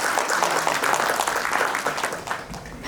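Audience at a Kolkata platinum jubilee celebration applauds to welcome a bishop to the stage, a steady, dense wash of clapping that holds for the whole stretch without any voices on top.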